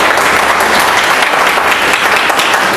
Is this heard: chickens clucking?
no